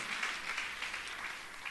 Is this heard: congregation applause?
yes